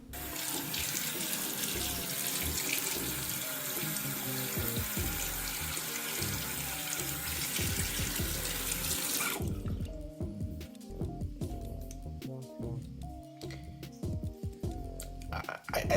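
Tap water runs from a faucet into a sink to wet a Bandai America toy, a loud steady gush that cuts off partway through, leaving drips, handling clatter and brief sounds of someone moving nearby.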